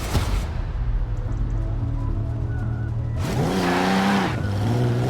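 A car in the Forza Horizon 4 racing game revs and accelerates, its engine note climbing through the gears, then tires squeal in a long skid before the engine settles back. Loud and close, with no talk.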